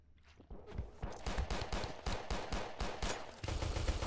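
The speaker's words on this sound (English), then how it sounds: "A little bit of pistol fire returning into the Nukies" Rapid gunfire in the space-station game Space Station 14, a dense string of sharp shots fired close together in quick bursts, loud and continuous with barely any pause.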